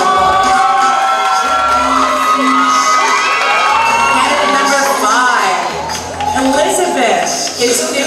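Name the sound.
audience applause and cheering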